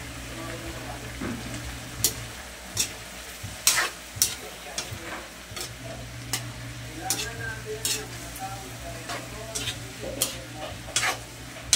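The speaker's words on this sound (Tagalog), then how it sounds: "Lagay natin ang ating mushrooms para maluto." Mushrooms sizzle and fry in a pan on a home stove, with a steady low hiss and scattered stirring clinks and scrapes.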